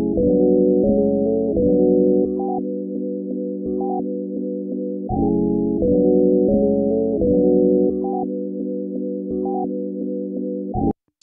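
Steady melodic sample loop from a Cymatics pack runs on an MPC Live 2, layered sustained chords with small pitch shifts cycling about every five seconds, loud and continuous, then cutting off abruptly at the end.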